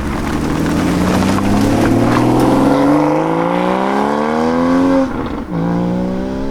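Porsche Cayman 981 GT4 engine on a public B road, pulling hard as its pitch rises steadily, then dipping briefly at a gear change before climbing again; loud and close, with no talk.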